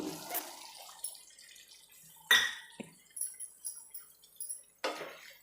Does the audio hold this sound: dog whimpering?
no